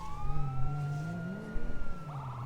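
A police siren wails with rising and falling tones over a low engine rumble, fairly close, with no voices.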